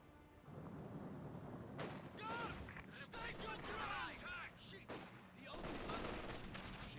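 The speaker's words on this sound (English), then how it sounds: "light machine guns blasting away" Light machine guns firing in a Company of Heroes 2 battle between Soviet Guards and German Grenadiers, with dense overlapping bursts and booms that run nearly continuously and loud throughout, while a caster talks over the gunfire.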